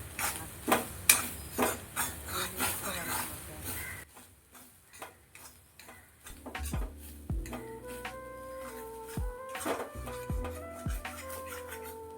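Grated coconut roasting in a pan for a prawn theeyal, stirred with brisk scraping strokes for a few seconds. Quieter clinks and tonal background music follow.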